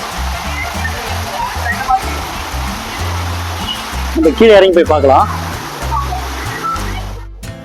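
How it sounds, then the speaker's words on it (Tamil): Water from an overflowing lake spills over a small waterfall and flows away as a stream among farmland near Pondicherry, giving a steady, close rushing noise while someone talks over it. "ஏரி ரொம்பி ஏரியிலேருந்து ஓடையாக பிரிஞ்சு தண்ணி ஓடுது"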